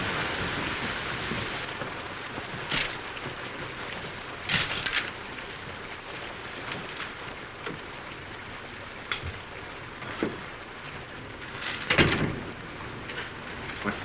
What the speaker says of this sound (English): It's this rain, I guess. Makes me jumpy.